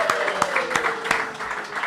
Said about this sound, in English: let's give ourselves a round of applause because this is the first night we're live on the internet